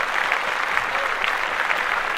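Podcast hosts applauding in a studio: a brief burst of a few people clapping steadily at close range, with no talk over it.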